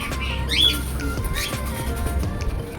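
A rescued bird gives a few loud, harsh squawking calls at close range, two rising shrill cries standing out over background room noise, with no talking.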